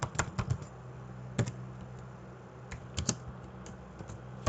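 Quiet keystrokes on a computer keyboard come in short bursts and isolated taps with pauses between, soft and close while Java code is typed.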